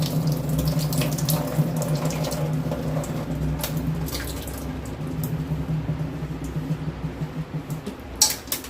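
Running tap water pours steadily over food being washed in a kitchen sink, with a continuous splashing rush and occasional clinks of a vessel near the end.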